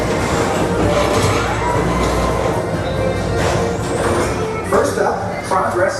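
Steady low rumble of a Walt Disney World ride train rolling along its track, with faint rattling and clacks, while a person talks over it.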